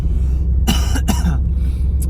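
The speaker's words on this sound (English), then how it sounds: "I'm going to cough again" Two harsh, close coughs in quick succession over a constant low rumbling background, with a faint short sound near the end.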